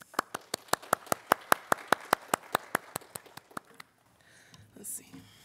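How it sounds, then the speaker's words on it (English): A single person claps about eighteen times in a steady, evenly spaced rhythm, crisp and close, for a virtual high school commencement. The clapping stops abruptly and leaves faint rustling and a soft whisper. "Let's give them a round of applause."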